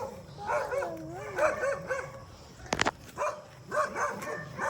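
Dogs bark and yip in short bursts, a little distant, with whimpering pitch glides and a sharp bark midway.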